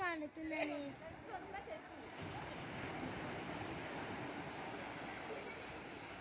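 Ocean waves washing onto a beach, a steady broadband surf hiss with wind noise on the microphone, following a brief voice at the start.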